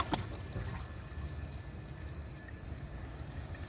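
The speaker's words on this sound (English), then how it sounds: "It definitely has a pretty aggressive flush" An American Standard Homestead VorMax ultra-high-efficiency one-gallon toilet flushes with a steady, fairly soft rush of water that runs evenly throughout, with a faint splash at the start.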